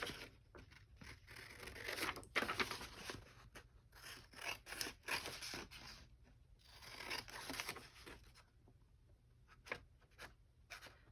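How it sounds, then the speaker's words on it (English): Scissors cut through a paper sewing pattern along the size lines, giving a steady run of close snipping and crisp paper rustle with short pauses and no talk. "Still cutting all along the 12-month lines."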